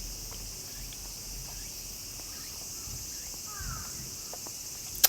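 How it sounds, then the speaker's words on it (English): Cicadas droning in the summer heat of a Tokyo garden near the Imperial Palace, a steady high-pitched buzzing wash that continues throughout with faint scattered background noise and a brief click at the end. "You can hear the cicadas"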